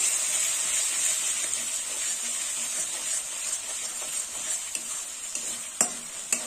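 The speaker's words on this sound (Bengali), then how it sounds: "মশলাটা একটু ভেজে নেব।" Spice masala with garlic and ginger paste fries in a pan for a Bengali bhetki fish-bone kalia, a continuous bright sizzle with stirring and a few sharp clinks of a utensil near the end.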